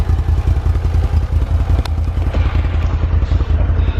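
A Can-Am Renegade XMR 1000 ATV's engine and exhaust, a loud, close, rapid burbling throb with clattery mechanical crackle, idling steadily and alone.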